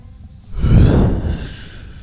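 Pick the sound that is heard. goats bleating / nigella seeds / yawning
yawning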